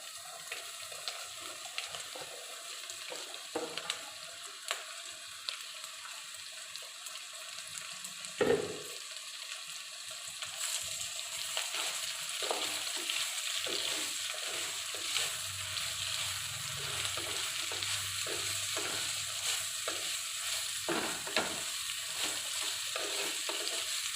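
Chopped bitter gourd fries in a pan with a faint, continuous sizzle, while intermittent light scrapes of stirring come and go and a single sharper knock lands partway through.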